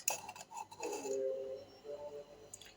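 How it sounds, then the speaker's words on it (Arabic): Utensils stir breading ingredients with salt and cumin in a bowl, giving a few light clinks and scraping taps of metal against the dish, close and quiet, with no talking. "وهنقلب بقى الحاجات دي كلها ببعضها كده اهو"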